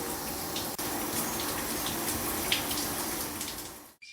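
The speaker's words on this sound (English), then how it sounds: "Marbles, you gonna take a shower?" Shower water running steadily over a pet parrot, a close continuous spray and splatter that cuts off abruptly at the end, with no talk.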